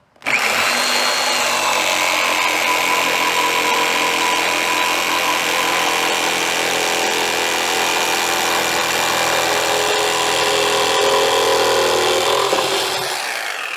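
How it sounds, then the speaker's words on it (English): A jigsaw fitted with a metal blade cuts a hole through a pan, a steady loud buzzing rasp that runs without pause for about thirteen seconds and then stops abruptly. "I used jigsaw to cut the hole in the pan. This, with a nice metal blade,"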